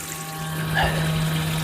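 Water runs steadily from the tap into a newly installed sink in a Renault Master campervan conversion, a continuous close rush with a low electrical hum underneath.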